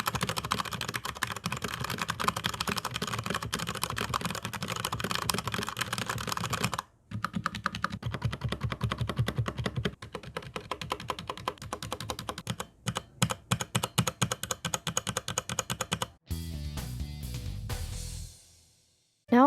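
Fast, continuous typing on a Cooler Master MK730 mechanical keyboard with a wrist rest, the close key clacks forming a busy rapid patter with brief pauses and a slower run of keystrokes near the end.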